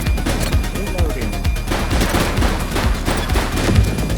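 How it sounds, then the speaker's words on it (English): Rapid bursts of gunfire from a police shootout in The Precinct video game, dense repeated shots across the whole stretch with a voice talking faintly underneath. "Shots fired!"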